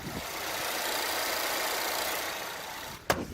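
A 2019 Volvo S90 gasoline sedan with about 140,000 km idles with its hood open, a steady, quiet, smooth engine hum heard alone, ending in a brief sharp click.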